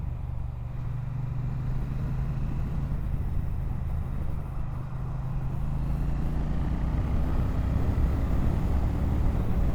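A 2025 Triumph Bonneville T120 big twin motorcycle riding through traffic, its low steady engine drone and wind rush continuous for several seconds, with passing vehicles blending in the background.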